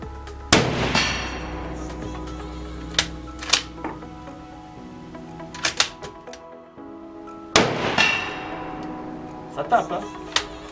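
Mauser G98 rifle fired with reloaded ammunition, two sharp loud shots several seconds apart with ringing decay, interspersed with metallic bolt clacks and clinks between them, and a voice speaking.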